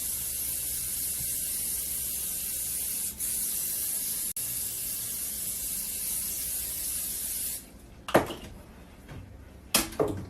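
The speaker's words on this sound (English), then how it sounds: "is the Pam spray it." Pam cooking spray hisses in a long continuous burst over flour-coated food for oven frying, close and steady, then stops and gives way to a few short clatters and handling noises.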